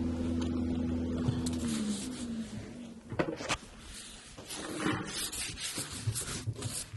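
A sponge with furniture polish wiped across the wooden surface of an old slant top desk, making a close, continuous rubbing swish that breaks into shorter, uneven strokes.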